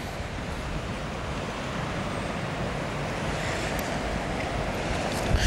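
Beach among trees on the Hel Peninsula with steady wind and surf: a continuous broadband rush of waves and wind buffeting the microphone, loud and unbroken, with no voices.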